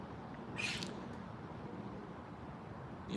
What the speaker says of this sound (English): That bird, you can hear that bird through anything.